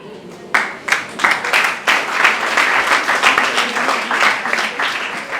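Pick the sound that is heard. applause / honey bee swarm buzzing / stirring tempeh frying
applause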